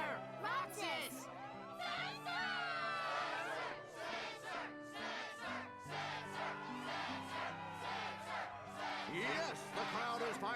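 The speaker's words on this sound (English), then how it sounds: "Yes, the crowd is fired up" Crowd roaring and shouting at the Struggle match in the Kingdom Hearts 2 video game, a loud continuous wall of excited voices with whoops and battle cries, with game music and character voices underneath.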